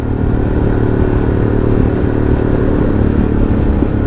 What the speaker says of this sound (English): It's what you would expect from Harley-Davidson to sound like, but in a really, really modern engine.